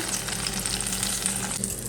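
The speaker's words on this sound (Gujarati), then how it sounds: "ગેસ બંધ કરીને હવે આપણે એને તળી લઈશું" Steady, close sizzling of tomatoes frying in hot oil in a pan, a continuous crackle with no voices.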